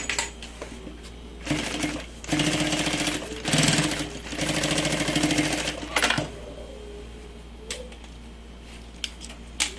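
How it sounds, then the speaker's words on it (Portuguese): A sewing machine runs in short and longer bursts while backstitching the seam of a large fabric bag, its rapid needle clatter loud and close, broken by quiet pauses and small clicks between runs. "Aqui pode dar um retrocesso para ele ficar reforçadinha a costura."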